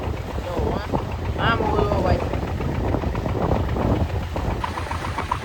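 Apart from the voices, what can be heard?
fishing boat running at sea in wind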